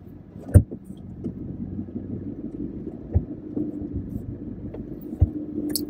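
Car cabin ride through Makati streets, a steady low road and engine rumble with a few soft knocks and thumps from inside the vehicle, no talking.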